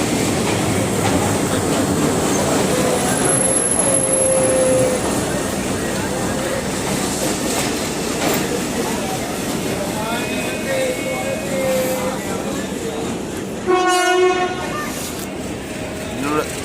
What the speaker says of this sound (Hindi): वो देखो दूसरी तरफ से ट्रेन जा रहा है